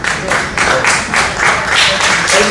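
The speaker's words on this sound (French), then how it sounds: "Elle vous applaudit avant que vous applaudissez." An audience claps in a room in several rhythmic bursts of moderate loudness, swelling and fading without any talk over it.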